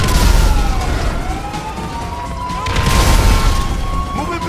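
Police sirens wail in a video game, their rising and falling tones sliding over rumbling, booming game noise and thick background clatter.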